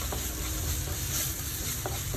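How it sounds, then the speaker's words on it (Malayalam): Ground garam masala fries in a pan for a chicken chukka, giving a steady, close sizzle with a few faint stirring clicks and no voices. "ഇത് നന്നായിട്ട് ബ്രൗൺ കളർ ആവണ വരെ നമുക്ക് വറുത്തിയെടുക്കാം"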